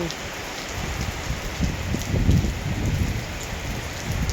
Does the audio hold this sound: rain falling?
yes